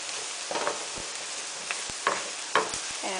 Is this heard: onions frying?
yes